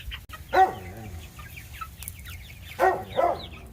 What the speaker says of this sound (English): They're hens, Sean.